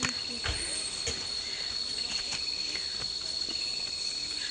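Crickets chirp in a steady high-pitched drone, with scattered faint clicks and rustles in the background.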